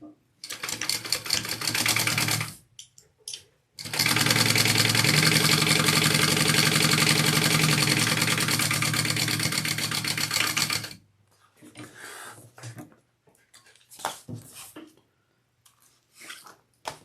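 A sewing machine bastes the top of a handbag closed, whirring loudly in a short burst and then a longer steady run of about seven seconds, followed by quieter handling noises and clicks.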